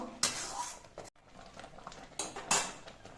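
Olive chutney with spice powder and grated coconut gets stirred in a pan on a gas stove, giving repeated scraping, clattering strokes of a spoon against the pan with a brief pause midway.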